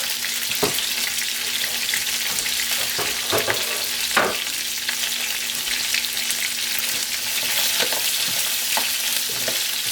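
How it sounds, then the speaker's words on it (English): Green beans and broccolini fry in a hot pan with chorizo fat, a steady loud sizzle running throughout with occasional stirring clatters. "And then we're going to put in our green beans and broccolini. Give that a second to cook."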